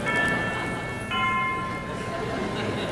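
A clock chimes during a comedy stage sketch, with two resonant ringing strokes about a second apart whose tones hang over a background of low noise.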